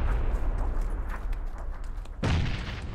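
Deep booming explosions from grenades in the battle-royale game PUBG, a rumbling blast followed by a second sharp, loud detonation near the end, with no talking.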